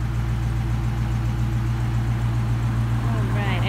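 A 2019 Dodge Challenger R/T's 5.7-liter V8 Hemi with 8-speed automatic idles steadily nearby, a low constant rumble that does not change throughout.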